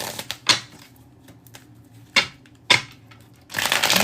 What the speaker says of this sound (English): Give this a real good shuffle.